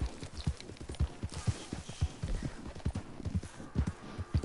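Horse hooves clopping in Red Dead Redemption 2, a steady run of close, thudding hoofbeats in a quick repeating rhythm, with no talk over them.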